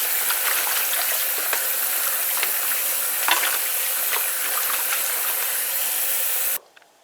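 Green plantains are rinsed under running water, a steady splashing gush that stays loud and even for several seconds before cutting off abruptly into near silence.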